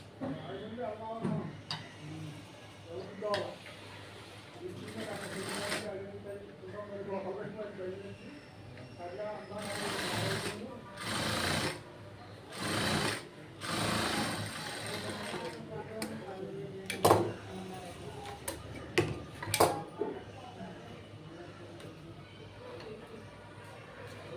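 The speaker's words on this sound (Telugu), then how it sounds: "ఈ రెండు కరెక్ట్గా ఇలా ఫోల్డింగ్ చేసుకున్న తర్వాత దీన్ని దీని పైన పెట్టి ఇలా స్టిచ్ వేసుకోండి" A sewing machine stitches the folded cloth of a 25-year-old silk wedding saree in several short whirring bursts between pauses, heard close while a voice talks throughout.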